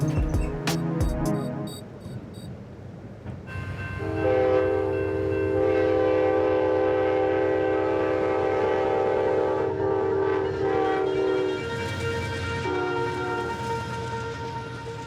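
A passenger train running through the mountains sounds several short horn blasts, then rolls on with a loud, steady rumble under a sustained tonal whine that fades slightly toward the end.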